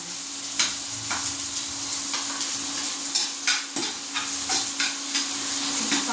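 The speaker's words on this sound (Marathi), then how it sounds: "पहिले मी कांदा परतून घेते." Chopped onion sautés in a pan, a steady close sizzle broken by repeated scraping strokes of a spatula at an uneven rhythm, with no voices.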